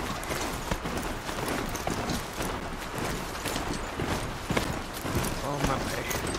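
Hooves of a horse-like machine mount galloping in Horizon Zero Dawn, a fast steady clip-clop under continuous game ambience, with someone talking over it.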